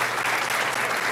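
Sustained applause from a graduation ceremony audience, a dense, steady clatter of many hands clapping without a break for about a second.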